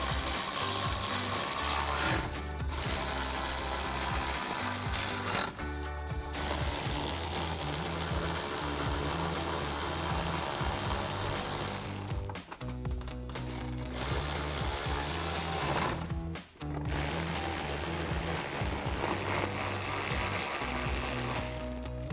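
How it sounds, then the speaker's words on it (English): A ratchet with a 7mm socket tightening bolts on a Camaro ZL1 rear diffuser, rapid clicking in several long close bursts separated by short pauses. "Grab a ratchet, 7mm socket,"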